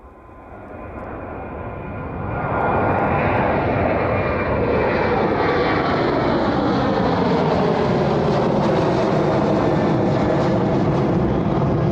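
A Boeing 777 airliner on descent to land on runway 27 at East Midlands Airport, its engine roar swelling over the first seconds into a loud, steady, close rumble that holds to the end, with no voices.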